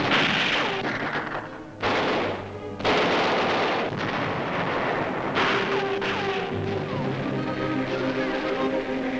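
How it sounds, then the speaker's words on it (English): A tank sets off a Japanese mine during the 1944 battle on Angaur Island, heavy booming blasts in loud bursts with rumbling, gunfire-like cracks layered through. "A tank hits a Japanese mine."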